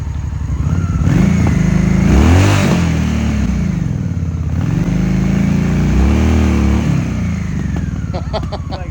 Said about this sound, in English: go ahead and do a burnout